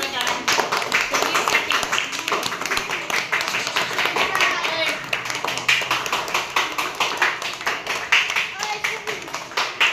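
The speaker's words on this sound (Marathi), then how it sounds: "या शर्विल साठी वाजवा जोरात टाळ्या." Children in a classroom clap together in a brisk, continuous round of applause that lasts about ten seconds, with voices talking over it.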